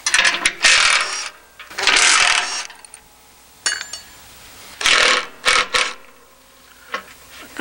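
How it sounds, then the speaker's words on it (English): Ratchet wrench clicking in repeated bursts while bolts are removed from an AWS Airbar during impeller replacement, several loud close ratcheting runs separated by short pauses and small metallic clinks, no talking. "Then we're going to remove the 12 5/16 bolts."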